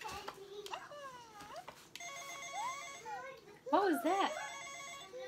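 A telephone ringtone rings indoors at home in repeated electronic bursts, mixed with a baby's sounds and an adult talking nearby.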